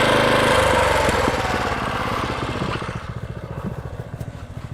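Toro Greensmaster 1600 reel mower mowing grass outdoors, its engine loud at first then settling into a rhythmic chugging putter as it moves slightly away, with a repeating pulsing beat.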